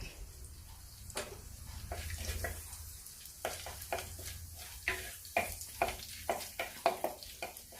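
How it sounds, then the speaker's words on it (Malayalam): Whole cinnamon, cardamom and cloves crackle in hot oil, a steady close sizzle broken by sharp pops and spits that grow busier toward the end. "ചൂടായ എണ്ണയിലേക്ക് കറുവാപ്പട്ടയും ഏലക്കായും ഗ്രാമ്പൂവും ചേർക്കാം"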